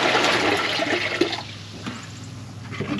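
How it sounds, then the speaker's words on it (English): Water gushes loudly into a basin for village hand-washing of laundry, a strong rushing pour that tapers off into quieter trickling and drips. "Pour water on the basin"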